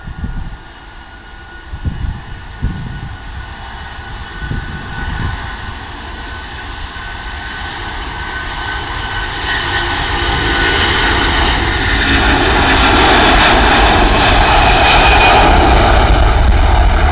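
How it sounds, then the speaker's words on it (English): A Jet2 Airbus A330 takes off, its jet engines building from a lower rumble into a loud, sustained roar that swells and brightens steadily as the aircraft powers down the runway, with no voices over it. "this is a Jet 2, and if you recognise it, it is of course an Airbus A330"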